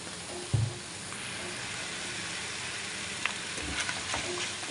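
Tuna sizzles and fries in a pan for a Pinoy-style tuna carbonara, a steady crackling hiss with a couple of brief stirring knocks, close and alone.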